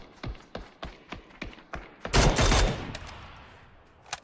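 Bursts of gunfire in the video game PUBG at a tournament event on the Rondo map: about seven sharp, evenly spaced shots, then a louder, denser blast of fire that fades into a lingering rumble. No one talks over it.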